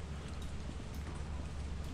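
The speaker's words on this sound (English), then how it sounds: "Alright, so this one rains a lot." Steady rain falling in the video game Lethal Company, a constant, moderately quiet hiss of drops on surfaces with a low rumble underneath.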